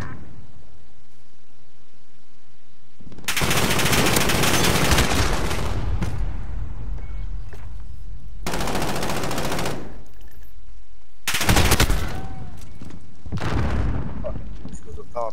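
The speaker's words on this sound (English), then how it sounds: "A Kilo with a 100-round mag with disabling rounds." Kilo assault rifle with a 100-round magazine fires in Call of Duty: Modern Warfare, four sustained automatic bursts separated by short pauses, loud and close, with muffled ambience between them.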